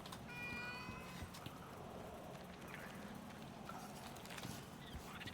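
A cat in the video game Icarus gives a quiet meow near the start, then faint scattered sounds follow over a low, steady background.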